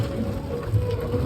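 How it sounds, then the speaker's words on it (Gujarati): Heavy monsoon rain pours down steadily and close by, a dense continuous hiss of drops drumming on surfaces with no voices. "જોરદાર વરસાદ ચાલુ થયો"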